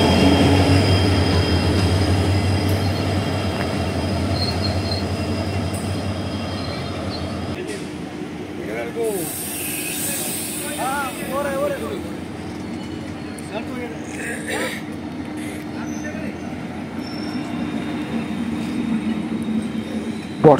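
A train rumbles loudly past a railway inspection car on the line from Guwahati to Agartala, a heavy rolling drone that fades into quieter clatter and faint squeals while people talk nearby.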